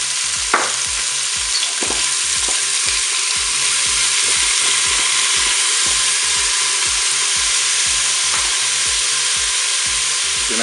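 Chopped onions sizzle and fry in a Cookeo multicooker on its browning setting, a steady loud hiss with repeated low scraping knocks from stirring throughout, and no talking.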